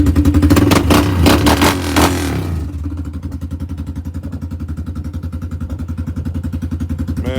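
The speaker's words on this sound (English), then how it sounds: "Good running bike." A restored motorcycle engine revs loudly at first, then settles into a steady, rhythmic idle with an even mechanical pulse, close up and with no talking.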